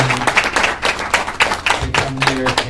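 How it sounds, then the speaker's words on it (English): An audience claps for panelists at an entrepreneurs' Q&A event with loud, dense applause from a close crowd. A speaker's voice comes through over the clapping. "I want to give a round of applause and thank you to our panelists"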